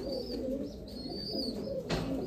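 Royal Teddy pigeon cooing close by, a few soft low rolling coos repeated in quick succession with faint background noise.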